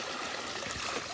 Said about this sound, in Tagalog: And running water pa rin siya. Ayan. Lakas yung tubig dyan eh.